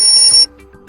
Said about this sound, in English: by choosing pre-installed ringtones, you can tap on apply next to one of those